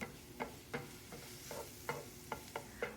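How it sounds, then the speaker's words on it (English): Ground sausage sizzling softly in a pan while a utensil stirs and scrapes it in a steady rhythm of light clinks over a constant hiss, with no voices. "So let's get our sausage cooking and put this all together."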